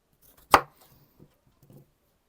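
A single sharp knife chop through a red onion cut into half-rings on a board, close and crisp, followed by a couple of faint light taps in an otherwise quiet room.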